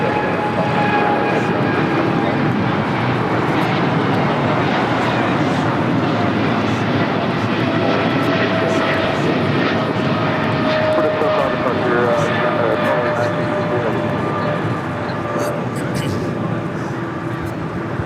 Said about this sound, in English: This is DHL, operated by Polar Air Cargo 962, taking off to Cincinnati on a 777 freighter.